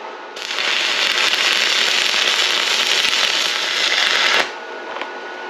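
Stick welding with a HZXVOGEN 130A welder set to 90 amps, giving a loud, harsh, continuous crackling burst of about four seconds that cuts off abruptly and is followed by quieter background.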